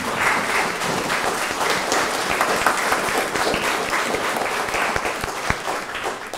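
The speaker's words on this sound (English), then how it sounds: "it might be a good, just maybe a round of applause just to..." A church congregation claps in a round of applause during a Sunday service, dense and sustained at moderate volume from start to finish.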